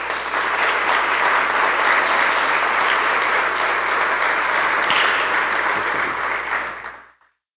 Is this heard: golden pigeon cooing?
no